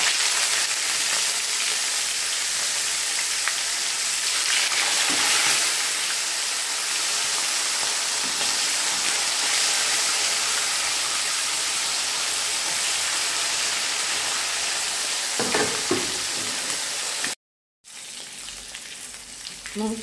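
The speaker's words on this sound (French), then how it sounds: "je laisse chauffer l'huile et je vais frire" Salt cod fries in hot oil with a loud, dense, continuous crackling sizzle that holds steady, broken by a brief silent gap near the end before the frying resumes.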